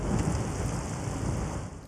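Heavy rain pours steadily during a hurricane thunderstorm, a dense, continuous roar of downpour with rumbling low end, loud and close throughout with no voices.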